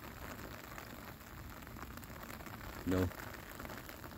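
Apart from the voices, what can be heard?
rain falling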